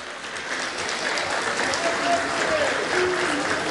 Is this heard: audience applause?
yes